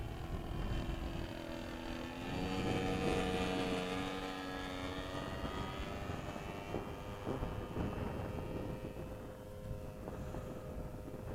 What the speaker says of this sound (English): it's a plane over at the airport. A real plane. Full scale.